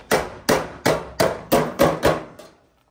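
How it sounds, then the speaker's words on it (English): Seven sharp, evenly spaced hammer blows strike a square gutter downspout with an oversized hammer, loud and close, each ringing briefly before the next, ending in silence. "Wrong hammer, too big."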